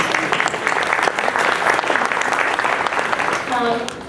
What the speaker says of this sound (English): A round of applause for the Blue Rutgers.